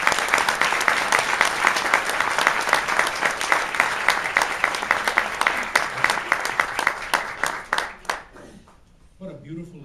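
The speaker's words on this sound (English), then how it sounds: "Let's give him a great round of applause" A large audience at the National Latino Congreso applauds in a loud, sustained wave of clapping that thins out and fades near the end, and a voice then begins.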